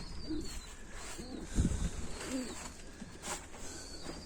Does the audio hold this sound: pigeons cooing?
yes